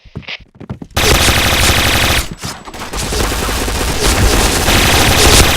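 Automatic weapons fire in the online shooter Point Blank as a few sharp shots give way to loud, sustained rattling bursts that briefly pause and then resume, heard up close.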